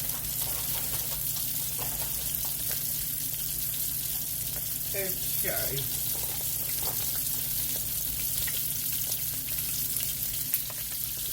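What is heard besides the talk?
chicken frying in a pan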